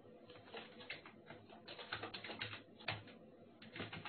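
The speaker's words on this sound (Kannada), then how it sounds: "ನ್ಯೂ ಫೋಲ್ಡರ್, ಸ್ಟೂಡೆಂಟ್ ನೇಮ್ ನಿಮ್ಮ ಹೆಸರನ್ನು ಹಾಕಿ ವಿಕಾಸ್" Typing a folder name on a computer keyboard, a quiet uneven patter of key clicks in quick runs and pauses, close and soft.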